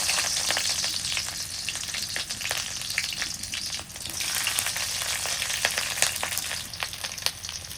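Chopped onion frying in a pan of oil in a rural kitchen, a constant crackling sizzle with scattered sharp pops throughout, close and steady, no voices.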